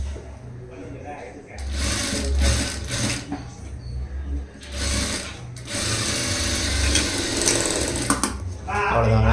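A sewing machine runs in several long stitching bursts while a blouse is sewn, loud and close, with brief pauses between runs and a steady low motor hum throughout.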